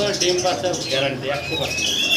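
A pair of red Lahori pigeons gives soft coos and chirps close by, with human voices mixed in among the calls.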